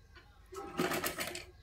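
A sewing machine stitching a princess-cut blouse, a short loud burst of rapid mechanical whirring and needle clatter rising after a quiet start, lasting about a second.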